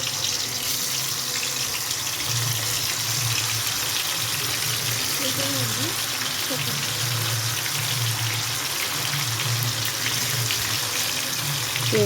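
Chicken 65 pieces sizzle in hot oil with a steady, dense crackle throughout, under faint background household voices.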